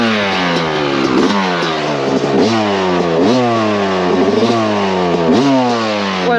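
A KTM 125cc motocross bike engine revs hard and close in repeated rising bursts, each climbing then dropping back, loud and continuous with no talk.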